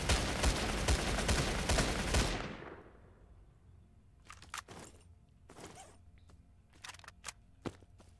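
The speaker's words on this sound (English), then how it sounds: "Where's that guy shooting from?" Dense, loud burst of rapid gunfire from the shooter game StalCraft, set in a swamp and cordon area; it cuts off after about two seconds and leaves scattered, fainter shots and clatter, with no talk.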